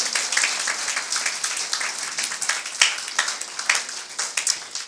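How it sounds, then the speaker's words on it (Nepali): A church congregation claps loudly together in a dense, continuous burst of applause that stays even and full throughout, with no voices standing out. "जोरले ताली बजाउने परमेश्वरलाई उहाँको चङ्गाइको लागि"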